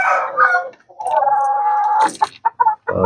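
Shamo chickens sound up close, a rooster's drawn-out crow followed by a few short hen clucks, loud and clear against an otherwise quiet background.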